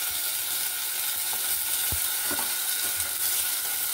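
Chopped onions sizzle and crackle steadily in a hot pan with oil as the base for a Punjabi dal tadka, with a few soft stirring scrapes of the spoon breaking through the constant frying hiss.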